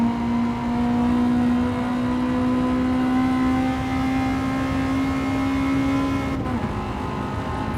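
A Honda Type R with a B16 VTEC engine revs hard on the Nürburgring, holding a loud, steady high-rpm wail for several seconds before a sudden drop as the throttle lifts near the end, heard close and alone.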